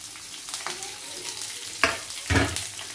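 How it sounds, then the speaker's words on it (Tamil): Sliced onions and garlic sauté in a pan with a soft, steady sizzle, punctuated by two brief louder bursts as they are moved about. "பெரிய வெங்காயம் கொஞ்சம் வதங்கினதுக்கப்புறம் நம்ம எடுத்து வச்சுருக்க நம்மளோட பூண்டை வந்து இதோட ஆட் பண்ணிக்கலாம்."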